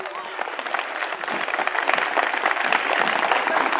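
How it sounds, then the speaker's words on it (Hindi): An audience applauds at a Republic Day patriotic poetry recital, a dense, steady wash of many hands clapping that grows slightly louder and fills the whole stretch. "वो एक बार जरा जोर तालियां बजा दे प्लीज"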